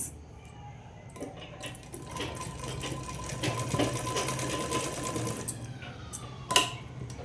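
A sewing machine stitches a blouse in a steady, fast mechanical whir that builds and runs for several seconds, then stops with a few clunks and clicks, close and with no talking.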